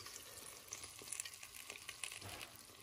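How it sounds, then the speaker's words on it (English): Food cooking in a pan, a faint, steady sizzle broken by scattered pops and spits, heard up close and alone. "That is cooking up big time"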